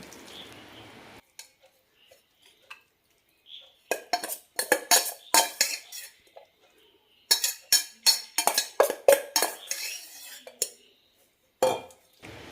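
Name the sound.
mixing mango pickle in a bowl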